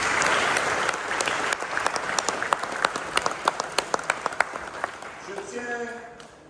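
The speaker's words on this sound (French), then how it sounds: "vous pouvez vous applaudir." A church congregation of a men's group applauds at a Christ the King feast in Le Moule, steady crowd clapping with sharp individual claps, fading as a voice starts to speak near the end.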